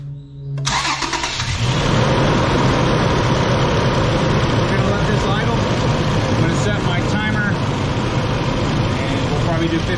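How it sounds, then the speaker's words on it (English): The 4.0 V6 engine of a 2006 Toyota Tundra cranks and catches after a brief quiet start, then settles into a steady, fairly loud idle. "start the engine"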